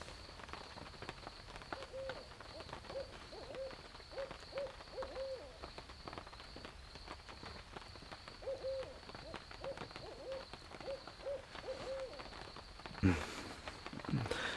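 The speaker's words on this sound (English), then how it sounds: "That owl's hooting away." An owl hoots at night during a rainy camping trip, two distant series of soft rhythmic hoots over a steady hiss of rain, ending in a brief rustle.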